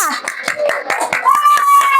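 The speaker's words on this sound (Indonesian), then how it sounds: "Sekarang beri tepuk tangan dulu buat kelompok 2." Children in a primary school classroom clapping for a group, a close series of sharp, rhythmic claps in a regular beat mixed with children's voices and a sustained chanted tone.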